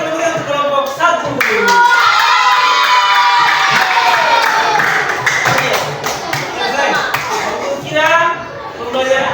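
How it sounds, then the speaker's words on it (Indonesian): Children clap and cheer for group 1 in a classroom science lesson, a burst of applause mixed with excited young voices and shouts that rises, holds and tapers off. "dan tepuk tangan untuk kelompok 1"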